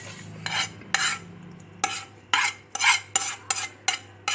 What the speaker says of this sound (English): We are going to add the crushed tomatoes in this.